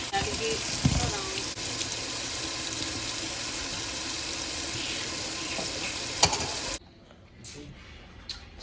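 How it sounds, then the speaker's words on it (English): Tap water runs steadily into a kitchen sink while raw chicken is washed under it, a close, continuous rushing hiss with small splashes, cutting off abruptly near the end to leave quiet handling noises. "Chicken is washed."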